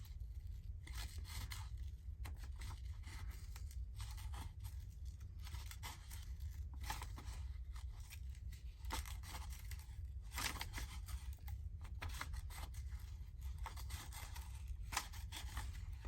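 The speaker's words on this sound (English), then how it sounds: "I'll use my big scissors" Large scissors cutting paper for a handmade hinged page, steady repeated snips and rustling of the sheet, close and quiet with no talking.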